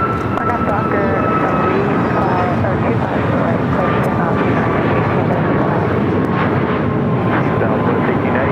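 A jet taking off from runway 25 right at LAX roars in a loud, steady broadband rumble with a faint whine on top, continuous throughout, with a radio voice faintly underneath.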